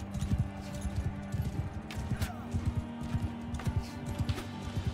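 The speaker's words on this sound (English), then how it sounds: "Give me the horse." Horse hooves clip-clop in the Mount & Blade 2 Bannerlord video game, a quick steady rhythm of close, crisp hoofbeats running throughout over a low background hum.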